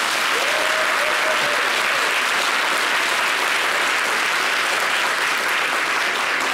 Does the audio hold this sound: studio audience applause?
yes